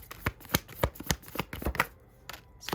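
Tarot cards are shuffled by hand in quick, crisp riffling bursts and soft taps, close and fairly quiet, with a brief pause near the end and no talk.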